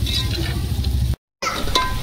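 Spices sizzle and fry in hot oil with onions in a pan, a steady crackling hiss with light stirring, briefly cut to silence before the frying resumes.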